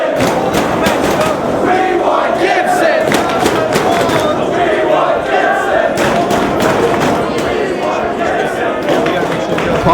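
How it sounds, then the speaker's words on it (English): A wrestling crowd chants for Gibson, loud and continuous, with rhythmic shouts and claps pulsing through a dense arena roar for the whole stretch. "This crowd's chanting for Gibson"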